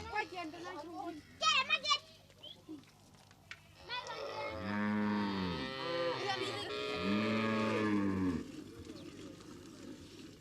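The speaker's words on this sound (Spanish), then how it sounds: "Las mujeres van a ordeñar las vacas." Cattle lowing in long, drawn-out moos during early-morning milking by women in a Namibian village, heard fairly close with faint voices and ambient sounds around them.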